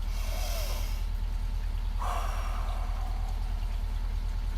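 Slow, deep breathing during an outdoor morning stretching routine in the rain: soft, airy inhales and exhales about two seconds apart over a constant steady background.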